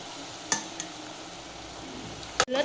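Boiled soybeans tipped into an onion-garlic masala and stirred in a pan, with a couple of sharp utensil scrapes against a low frying hiss, close and alone.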